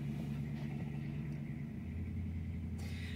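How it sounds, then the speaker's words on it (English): An old diesel Chevy car rumbles close by with a low, steady engine drone that holds level throughout, with no one speaking. "This old, diesel-ass Chevy car."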